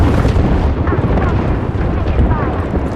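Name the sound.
airstrike missiles exploding in video game Apex Legends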